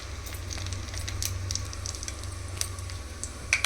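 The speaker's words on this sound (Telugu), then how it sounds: "ఇప్పుడు అదే ఆయిల్లో మనం హోల్ గరం మసాలా అంటే పలావ్ దినుసులు ఇందులో వేసేసుకొని" Whole garam masala spices and a bay leaf fry in hot oil, a steady close sizzle with small crackles and pops scattered through it, heard alone without talking.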